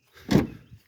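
Mitsubishi Montero SUV door opening, a single close thunk of the latch and hinge lasting under a second, followed by a brief lighter knock as it settles.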